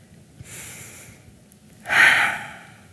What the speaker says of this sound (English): First, we breathe to get clear. As we slow our breathing down